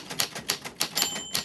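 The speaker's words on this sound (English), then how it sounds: "your name fell on the typewriter bell" Typewriter keys strike in a quick, uneven rhythm close by, and a brief high ringing tone of the carriage bell sounds near the end.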